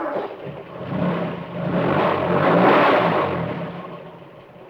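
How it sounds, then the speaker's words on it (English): A car engine revs up and pulls away, a steady mid-pitched roar that swells toward the middle and eases off at the end, close by with no talking. "Drive to that tree."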